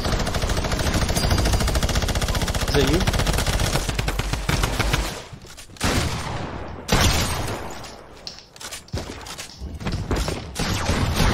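Fortnite battle royale gunfire rattles in dense, loud automatic bursts, then breaks into scattered shots and short volleys with brief gaps.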